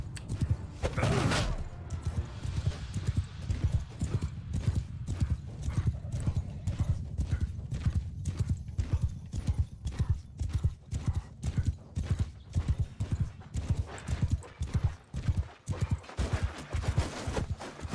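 Horses galloping in Mount and Blade II: Bannerlord battle, a dense steady clip-clop of many hooves close by with an occasional whinny and bursts of combat noise, continuous throughout.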